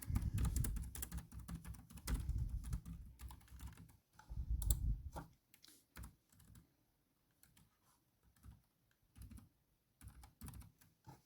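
Keyboard typing as an address is entered into an online Russian e-visa application form, with dense bursts of rapid keystrokes early on, then sparser, separated clicks and short runs of taps toward the end, close and fairly quiet.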